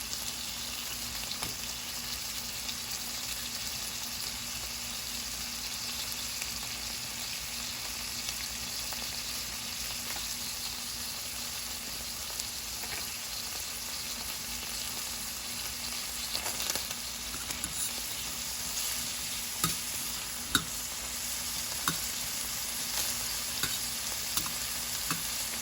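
Two small yellow onions sautéing in a pan beside steak, a faint, even sizzle with occasional light crackles, no talk.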